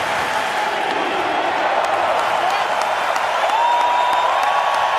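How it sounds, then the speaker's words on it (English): A large arena crowd at a world junior ice hockey quarter-final between Canada and Finland sustains a steady roar of cheering and applause, with a commentator talking over it. "The people are hoping into the future as well as cheering the goaltender Mikey DiPietro on right now."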